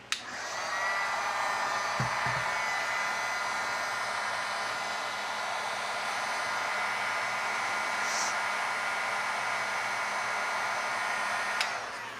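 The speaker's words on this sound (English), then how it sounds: "I'll use the heat gun to heat up the temperature probe" A heat gun blows steadily on the temperature probe of a Siekon trolling motor lithium battery, a loud, even, whooshing roar that starts abruptly and runs unbroken for about twelve seconds before cutting off near the end.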